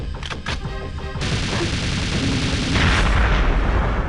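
A rocket launcher blast destroys a hovercraft in a video game: a loud, close explosion bursts in and then rolls into a sustained, dense rumble of debris and crackling that swells toward the end, with no voices.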